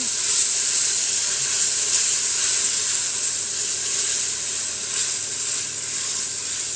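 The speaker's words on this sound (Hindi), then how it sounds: "लहसुन को अच्छे तरीके से मैं भून लूँगी।" Two tablespoons of ginger garlic paste fry in a pan, making a steady, loud, high hiss of sizzling oil with no clear breaks. No one speaks.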